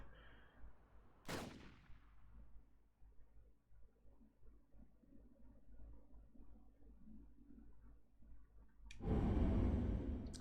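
Gunshot in the visual novel game 428: Shibuya Scramble, a sharp single crack with a ringing decay early on, low murmuring game audio after it, and a heavy booming burst at the end.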